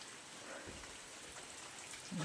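Soft, steady rain falls at a distance over waterlogged farm fields, a faint continuous patter, with a brief louder rustle at the very end.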